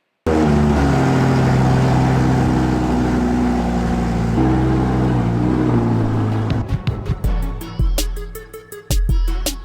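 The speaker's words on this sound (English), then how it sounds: "this is my 1993 Toyota Mr2 Turbo with the T-tops" A 1993 Toyota MR2 Turbo with T-tops and the 3S-GTE engine idles loud and close with a steady drone, then breaks into a series of sharp throttle blips and revs toward the end.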